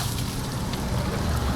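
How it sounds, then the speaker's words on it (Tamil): Drizzling rain falls outdoors during a bike wash, a steady, close hiss with faint patter and low rumble throughout. "மழை வந்து தூரல்லாம் போட்டுகிட்டே இருக்குது."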